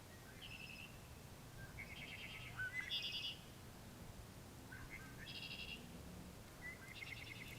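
Red-winged blackbird calls repeat across a quiet field in late winter, several short bursts of high trills and buzzy notes spaced a second or two apart, faint and somewhat distant over low background noise.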